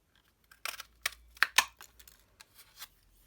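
A paper craft punch cutting a small balloon shape from cardstock gives a few sharp, close clicks and crunches in quick succession, then fainter rustling of the paper.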